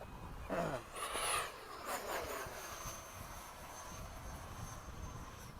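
An FMS 70mm F/A-18 RC jet with a Dr. Mad Thrust motor in a ducted fan makes a steady whooshing whine as it passes through fog, swelling as it goes by and then fading into a softer, distant rush.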